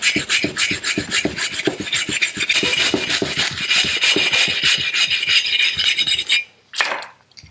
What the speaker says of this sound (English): An old wire brush.